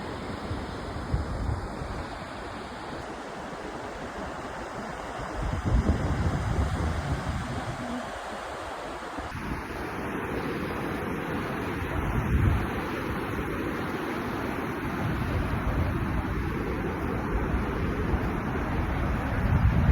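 Steady wind buffeting and surf washing ashore at Dharmadam beach in Kannur, with a continuous broadband roar that swells louder after about five seconds and stays full to the end; no voices.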